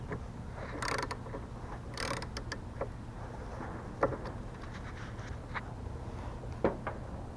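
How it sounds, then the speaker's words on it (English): T30 bolts are tightened by hand to mount a car wiper motor, producing close, irregular ratcheting clicks and metallic taps with a couple of sharper ticks, alone over a steady low background. "now I'm just putting the wiper motor back with the T30 bolts."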